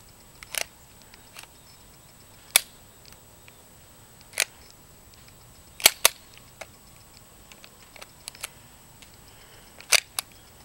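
A KWA Scorpion airsoft gun fires in full auto, giving sharp, dry snapping shots in irregular bursts and single pops with quiet gaps between them, heard close and alone.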